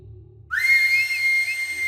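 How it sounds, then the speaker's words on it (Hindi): A shrill whistle is blown hard after a half-second of low rumble, one sustained piercing blast with slight warble, loud and close, lasting to the end. "ऐसे बजती है सीटी।"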